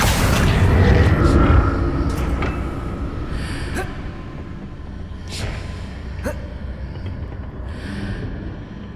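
An Accio summoning spell cast in Hogwarts Legacy, with a deep magical boom and whoosh at the start that fades into softer shimmering bursts and echoes, under a faint spoken voice.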